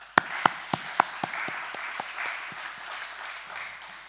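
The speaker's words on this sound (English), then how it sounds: "please let's give our esteemed and honorable guest, our icon, a big round of applause" Audience applause at a human rights celebration in a faculty of law, opening with a few sharp loud claps that swell into a steady wash of crowd clapping.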